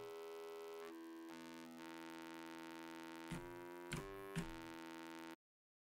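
A Serum 2 synth bass with distortion holds a steady harmonic-rich tone, shifting at a few points, with a couple of brief louder bursts near the end before cutting off abruptly.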